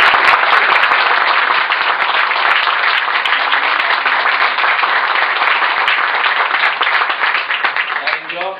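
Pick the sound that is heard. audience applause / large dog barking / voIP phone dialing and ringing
audience applause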